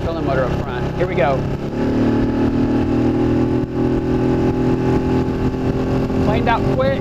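Outboard motor on a jon boat making a speed run with a trolling motor mounted up front, a steady loud engine drone with brief talk at the start and end.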